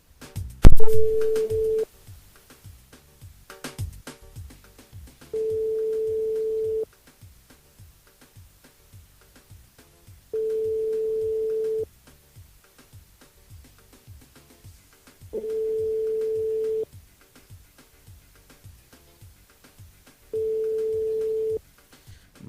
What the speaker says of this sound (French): on appelle Stacy ce matin dans le jeu Le Nialo des Bonjours